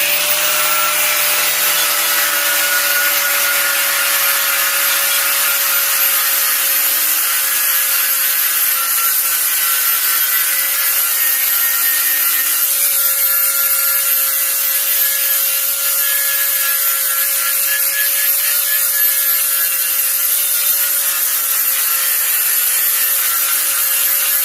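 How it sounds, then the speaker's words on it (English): A flap disc grinds the rotted end of a 2008 Honda Civic muffler pipe, giving a steady, continuous abrasive rasp with a faint whine, close and loud throughout, with no talking. "But I'll show you with the flat disc."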